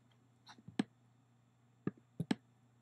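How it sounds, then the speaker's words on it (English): A laptop touchpad clicks as frames are stepped one at a time in editing software, a handful of sharp, quiet taps spaced irregularly, close and alone. "Sorry for the laptop clicking noise."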